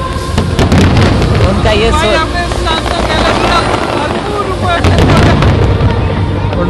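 Fireworks bursting over Busan at a crowded outdoor display, a dense continuous roar of crackles and booms with wind buffeting the microphone, while a voice talks over the noise.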